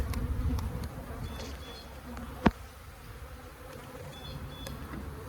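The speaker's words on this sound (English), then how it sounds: "there's a lot of bees in this box" A steady drone of many honeybees buzzing in an open hive during an inspection, close and continuous, with one sharp click midway through.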